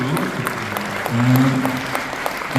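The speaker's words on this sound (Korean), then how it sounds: "응원의 박수" Audience applause at a book concert, a steady wash of clapping with a voice talking over part of it.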